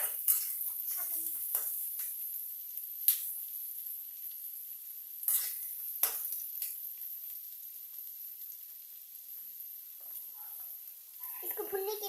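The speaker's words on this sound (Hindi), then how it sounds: "और इसको अच्छे से भूनेंगे।" Chicken masala for a desi-style chicken curry sizzles and fries steadily in a pan, with a few spoon scrapes and clinks as it is stirred, close up with no talking.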